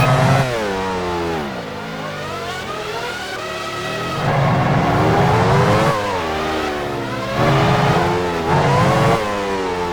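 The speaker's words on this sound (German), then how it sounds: "Diniz fährt an die Box." Race car engines in the F1 Challenge 99-02 video game at the 1999 Monaco Grand Prix: high-pitched revving that rises and falls through gear changes, loud and continuous.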